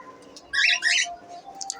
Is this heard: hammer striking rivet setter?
no